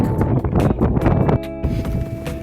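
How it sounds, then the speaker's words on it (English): Strong gusts buffet a microphone outdoors while walking beside old wagon trail ruts in Cape Town, South Africa, a loud continuous rumbling roar that swells and drops in uneven bursts. "As we're walking here, it's really windy."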